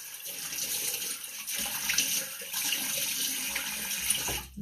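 Steady broadband rush of tap water running into a sink for washing the face, lukewarm water, continuous and close with small splashy fluctuations, no talking.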